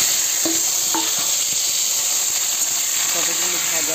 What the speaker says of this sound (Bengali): তারপরে পটলগুলো দিয়ে দেবো।